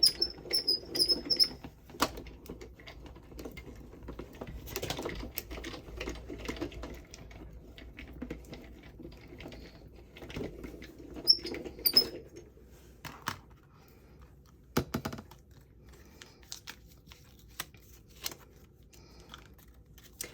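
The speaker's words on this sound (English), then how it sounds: "let's feed that through our Gemini Midi" A Gemini Midi die cutting and embossing machine runs as card is fed through, giving a quiet mechanical whirring and rolling hum with occasional clicks and knocks, no voices heard.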